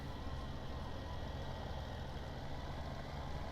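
A tractor engine in a farming video game, with muddy fields, runs in a steady, continuous low rumble, loud and close, with no talk over it.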